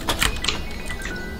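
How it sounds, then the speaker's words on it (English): Quick clattering keystrokes on a computer keyboard, a brief burst of taps in the first half-second that fades into quieter background noise with no talking. "Oh shit, I was typing."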